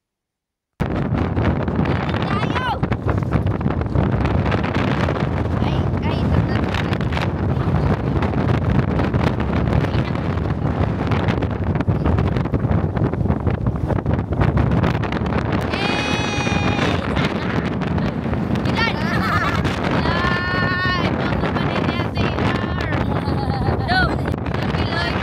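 Strong wind roars and buffets the microphone nonstop, with faint voices briefly audible underneath partway through.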